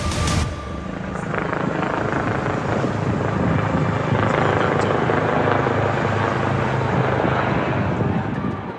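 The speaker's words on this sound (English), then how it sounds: "I heard a helicopter coming by" A helicopter passes overhead, its steady thudding rotor roar loud and constant, with wind buffeting the microphone and no voices.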